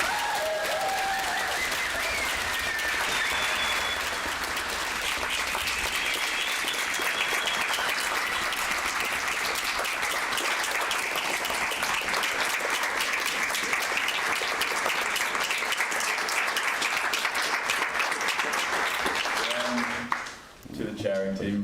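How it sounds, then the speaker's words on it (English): A large audience at a national assembly event in Düsseldorf applauds continuously for about twenty seconds, a dense, steady wash of clapping that fades out abruptly near the end. "So one big round of applause for the OC."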